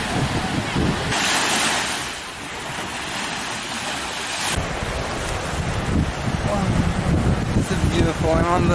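Baltic Sea surf rolling onto the beach at Brzezno near Gdańsk, a steady roar of waves with heavy wind buffeting the microphone, while voices talk over it in places.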